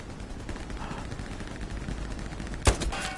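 Gunfire rattles in a first-person shooter video game, a patter of distant shots under ambient noise, then one sharp, loud close report near the end followed by a short burst.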